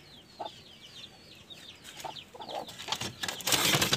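Chickens and young chicks in a farm pen cluck and peep in short, overlapping calls, with scattered rustling that grows busier and louder toward the end as feeding begins.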